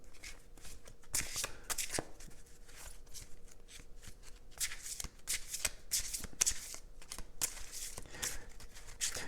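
Oracle cards are shuffled by hand in quick, repeated riffling bursts of papery flicks and slaps, close and crisp, with brief pauses between rounds and no clear speech.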